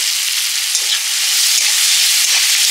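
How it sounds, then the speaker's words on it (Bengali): Chopped onions frying in hot oil for a prawn malai curry, a steady, close, bright sizzle that holds at an even level throughout with no talking. "তেল দিয়ে পেঁয়াজটা দিয়ে দিলাম"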